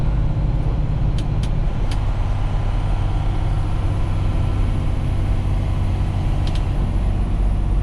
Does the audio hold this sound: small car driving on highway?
yes